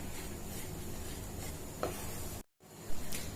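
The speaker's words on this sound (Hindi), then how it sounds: "बेसन को भूनते हुए 7 से 8 मिनट हो गए हैं।" Gram flour (besan) being stirred and roasted in a pan over medium-low heat for sweet laddoos, giving a steady soft scraping and faint sizzle that runs close and alone, with one brief break near the end.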